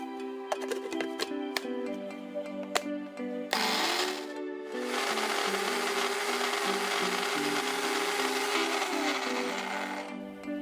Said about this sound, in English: transfer into a blender to blitz them up